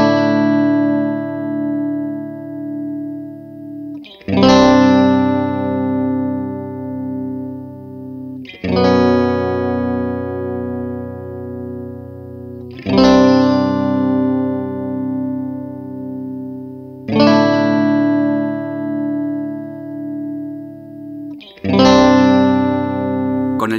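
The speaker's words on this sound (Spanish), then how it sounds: "Ahora activemos solamente el fuzz y escuchemos cómo suena con la configuración actual." Electric guitar through a FuzzBox Gear Janus fuzz pedal with only the fuzz engaged, loud sustained distorted chords struck about every four seconds and left ringing between strikes, with no voices.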